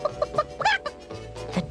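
A huge chicken clucks loudly and close by, a quick run of squawking clucks with no talk over it, as the Tooth-Gnasher Superflash car turns into a giant chicken.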